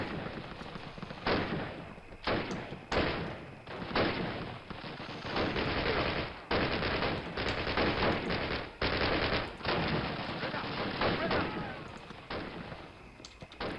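Rapid bursts of automatic gunfire in the video game Call of Duty: United Offensive crack out again and again, loud and close, with brief gaps between volleys over a steady background din.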